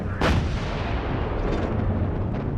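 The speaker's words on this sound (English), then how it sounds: "Then there was another explosion," Near, heavy artillery fire opens with one sharp blast, then a dense rumble of war explosions continues under it with no speech.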